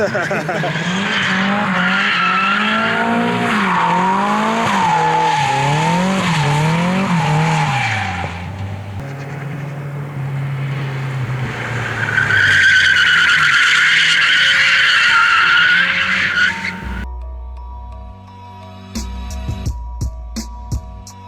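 A car drifting with a long, loud tire squeal and wavering engine revs, skidding continuously for several seconds before fading, with voices nearby.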